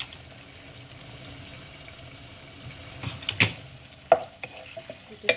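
Fennel and cumin seeds stirred in a frying pan, with a soft steady sizzle and several sharp clinks and scrapes of a utensil against the pan toward the end.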